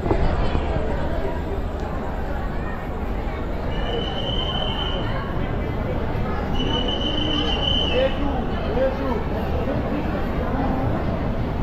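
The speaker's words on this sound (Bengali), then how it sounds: "মোটামুটি আমাদের 40 মিনিট আগে আমাদের ট্রেন ঢুকছে" Rumbling, rattling noise of the Shalimar Puri Superfast Express pulling into a station, continuous and fairly loud, with brief high squeals from the wheels partway through.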